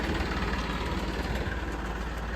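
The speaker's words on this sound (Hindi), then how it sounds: "तो इस ट्रैक्टर को अपन निकाल रहे हैं प्लोइंग के लिए" A tractor engine idles steadily at close range before heading out to plough a farm field, a continuous low rumble with faint vibration and no talk.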